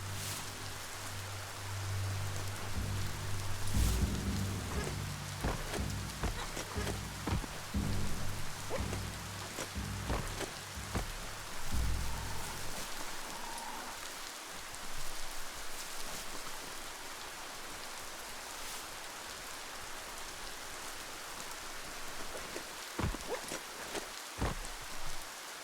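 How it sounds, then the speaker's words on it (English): Steady rain falls in the video game Biomutant, a dense hiss of raindrops on surfaces that runs throughout with no talk, joined by heavier low rumbling during the first half. "Oh no! Rain!"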